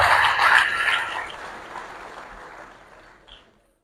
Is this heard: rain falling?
no